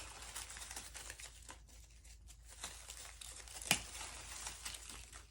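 Cutters snipping flower branches while trimming pink roses and berry stems for a floral arrangement, soft crinkling and rustling of stems and leaves with one sharp close snip near the end, quiet and near.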